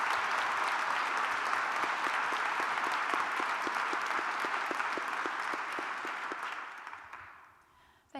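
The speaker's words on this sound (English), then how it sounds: "Can I get another round of applause?" Sustained applause from the audience at a baccalaureate ceremony. Dense clapping in a large hall, with one pair of hands beating a steady, audible rhythm. It fades out toward the end.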